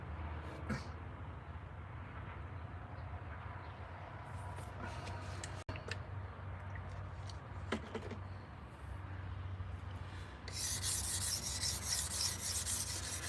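A knife blade rubs in soft, steady strokes across a 6000 grit whetstone, a quiet continuous rasping close to the microphone with a couple of small clicks and a brighter hiss toward the end.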